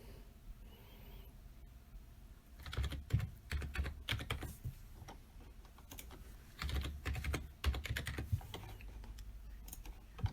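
A password is typed on a computer keyboard in a quiet room, with two bursts of quick, close key clicks separated by a pause.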